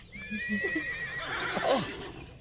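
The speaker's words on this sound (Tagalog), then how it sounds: "Ang mga kabayo ko." A horse on a large hacienda lets out a loud, shrill whinny that wavers and trails off, with a few soft snorts and hoof sounds around it.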